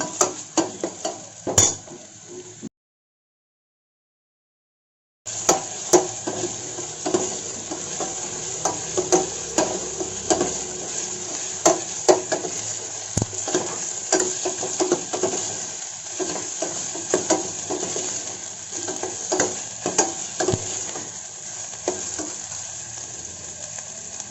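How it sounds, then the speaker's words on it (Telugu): Onion and green chillies soften in a hot pan, a steady close sizzle broken by the scrape and clink of a spoon stirring, with a short silent gap near the start. "ఉల్లిపాయ పచ్చిమిరపకాయ మగ్గియండి."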